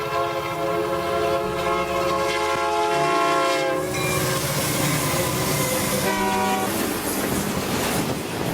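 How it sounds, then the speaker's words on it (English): A passing train dominates throughout, its horn sounding in long sustained tones over rumbling wheels and rail clatter, loud and close, with no talking. "Let's catch the train."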